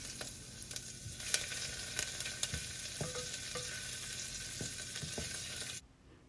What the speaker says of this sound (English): Now we can add the minced garlic and ginger into the pot and stir for about a minute